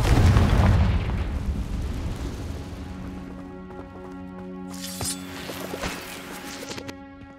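A Confringo fire spell explodes with a loud close boom in Hogwarts Legacy, its roar fading over a few seconds, followed by lighter crackling and magical chimes.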